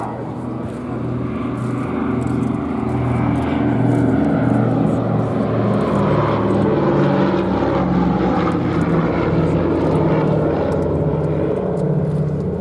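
A Douglas Dakota propeller aircraft drones past at an airshow at Duxford, UK, its loud, steady engine hum rising and holding while a commentator speaks over it.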